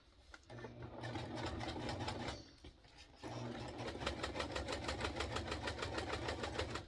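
A sewing machine runs in two stretches with a brief pause between while quilting, its needle chattering in a fast, even rhythm, close up.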